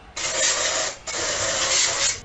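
A can of WD-40 sprays in two loud, close hissing bursts, the first about a second long and the second longer, separated by a brief pause.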